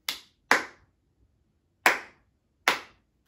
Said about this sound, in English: So let's clap and count this together using our rhythm language.